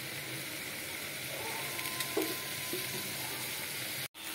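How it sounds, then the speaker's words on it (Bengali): Chicken mince fries with onions and pre-fried potatoes in a pan, giving a steady, even sizzle with faint stirring scrapes and a brief clatter, cutting off abruptly just before the end. "পেঁয়াজের সাথে চিকেনটাকে যতক্ষণ না লাল হয় ততক্ষণ ভেজে নেব"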